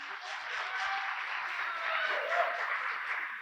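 Audience clapping at a Hindi motivational real estate seminar, a sustained, even patter of many hands held at a moderate level throughout.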